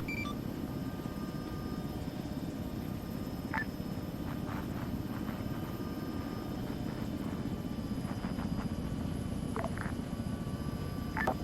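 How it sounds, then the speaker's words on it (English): A Chinook helicopter flies in a military simulation game, its rotor and engine making a steady, dense roar throughout with faint scattered beeps and clicks above it. "I'm on station with a Chinook."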